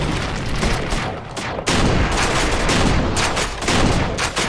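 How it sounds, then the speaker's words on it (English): Shotgun fire in the shooter game Perilous Warp, a Quake 2-style gun with a double-shot alt-fire: loud, close, heavy blasts in quick succession that fill the whole clip. "The shotgun here is a Quake 2 rip-off"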